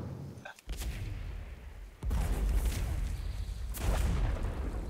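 In World of Warcraft, an Azerite-loaded cannon fires at supplies, with sharp booms at intervals over a steady rumbling game background.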